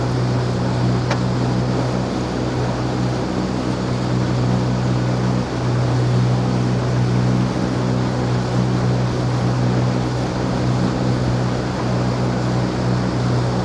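A ferry crossing the sea in Albania gives a steady, loud low engine drone with a constant hum and rushing water and wind layered over it, unbroken throughout with no talking.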